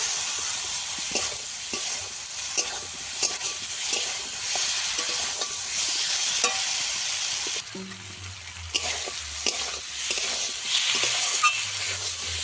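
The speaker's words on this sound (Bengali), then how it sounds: "আলু দিয়ে আবারও ভালো করে একটু কষিয়ে নেব" Fried potatoes are stir-fried in hot oil for a fish curry, giving a steady close sizzle broken by repeated scraping stirs and a brief lull partway through, with no talking.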